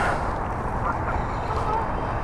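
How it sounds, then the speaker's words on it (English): Geese honk outdoors on a windy day of fishing, sounding as scattered, nasal calls over a rumbling, gusty background. "these geese must be doing geese things"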